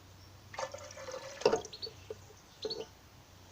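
Water is emptied out of a drinking glass in a quiet room, heard close as a few short splashes and drips over about two seconds against faint background hum.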